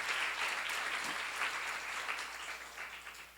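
Audience at a church seminar on Jeremiah applauding steadily throughout, a dense wash of many hands clapping at even loudness.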